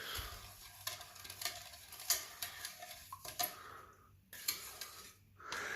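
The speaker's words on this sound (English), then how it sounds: "Give it a little stir to help it dissolve, using our trusty basement paint stick." A paint stick stirring salt booster into water inside a water softener tank, giving a series of soft knocks and scrapes in an irregular rhythm, close up and quiet, with brief pauses.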